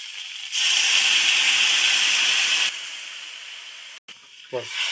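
Water hits a hot pan of Sundarbans eel curry in a village kitchen, bursting into a loud, close steam hiss that settles into a softer sizzle after a couple of seconds.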